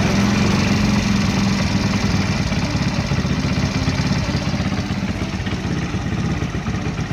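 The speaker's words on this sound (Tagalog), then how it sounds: "pinakamatining na tunog ng ating engine" A motorcycle engine idles steadily during carburetor air/fuel mixture adjustment, a loud, close, even low rumble with a fast regular pulse, easing slightly lower in level toward the end, with no voices.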